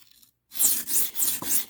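A knife drawn across a cheap one-dollar whetstone: after a moment of silence, four close, quiet rasping strokes follow one another in a steady back-and-forth rhythm.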